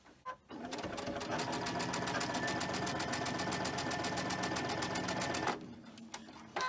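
A sewing machine chain stitches rows of a mini Christmas tree wall hanging, running in one steady, dense whir for about five seconds, with short quiet gaps before it starts and after it stops.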